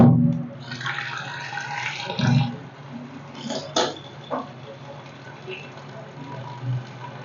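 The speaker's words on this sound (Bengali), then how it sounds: "এই জলটা ফেলে দেবো আমি এখন।" Water poured off a pot of boiled mushrooms in a home kitchen splashes and gurgles in uneven bursts, loudest at the start and fading into smaller trickles and clinks.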